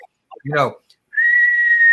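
A person imitates a hawk by whistling: a sustained, steady whistle tone lasting under a second, preceded by a short burst of voiced sound.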